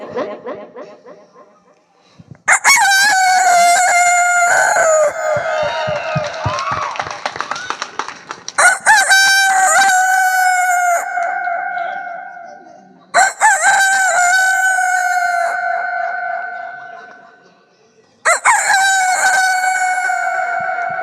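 A rooster crows loudly and close by, four long cock-a-doodle-doo calls spaced a few seconds apart, with a short burst of clucking between the first two and quiet gaps in between.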